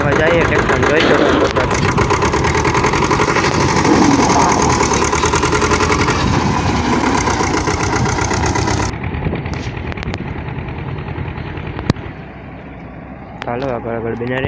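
A loaded tractor's engine runs with a steady, loud rumble and idle knock, close by, while people talk over it; the noise eases and thins near the end.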